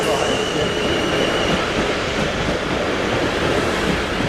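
A passing train rumbles steadily and loudly through a Southampton level crossing on a line toward Portsmouth, a broad continuous roar with a faint steady high tone running underneath.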